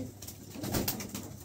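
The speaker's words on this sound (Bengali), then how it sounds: "শ্যালো আছে ব্লু বার, এটা মেল কবুতর" A blue bar male Lahori pigeon coos once, a soft low burbling call, faint and close, with no talk over it.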